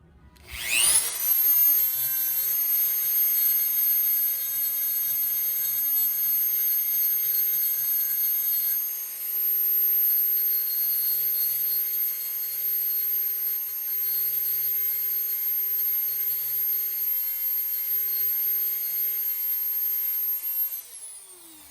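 A grinder works the cut edge of a glass beer bottle, a loud, sustained high-pitched whine with a rough grinding rasp that briefly dips midway and keeps going before spinning down at the end.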